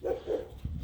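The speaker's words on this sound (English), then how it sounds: "oh, there is a dog." A dog barks beside a forest road, giving two or three short, moderately loud barks at a middling distance with a low background rumble.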